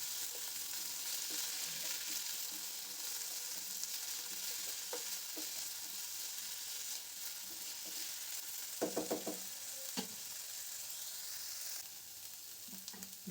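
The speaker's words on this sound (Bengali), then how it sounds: "এবার এর মধ্যে কেটে রাখা আলু, বেগুন আর শিমগুলো দিয়ে দিলাম। এগুলোকে 1 থেকে 2 মিনিট মতন ভাজবো।" Potato, eggplant and flat beans fry in a pan for a beto shak bhaja, giving a steady close sizzle with a few sharp scrapes and clatters of stirring near the end, and no voices.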